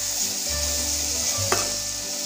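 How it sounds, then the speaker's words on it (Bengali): Katla fish curry with eggplant, salted to taste, stirred in a frying pan: a steady, close sizzle with a single sharp scrape of the utensil midway. "এবার নেড়ে নেব"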